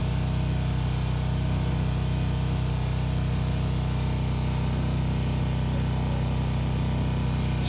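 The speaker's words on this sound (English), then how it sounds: "I'll probably turn about at least a ½ inch out of here to get this more stable" A 12-inch wood lathe rough-turns a cherry wood crotch-figure bowl, giving a loud, steady hum and rushing drone that continues without a break from start to finish.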